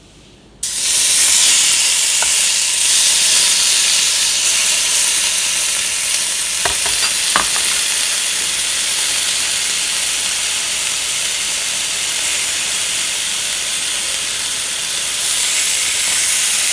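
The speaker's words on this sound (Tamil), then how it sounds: "நம்ம மேரினேட் பண்ணி வச்ச சிக்கன் இப்போ கிரில் பண்ணிக்கலாம்." Marinated chicken hits the hot grill and sizzles loudly, a steady broad hiss that holds for the whole stretch with a few faint clicks mixed in.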